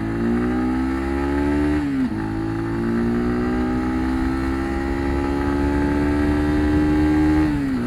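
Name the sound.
motorcycle engine climbing uphill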